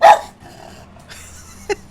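A dog gives one sharp bark at the start, then faint background noise follows with a brief distant yip near the end.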